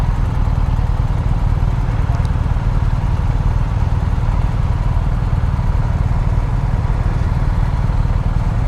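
A Ducati Multistrada motorcycle engine idles nearby, a loud, steady low rumble with fast pulsing that holds unbroken for nearly nine seconds, with no voices over it.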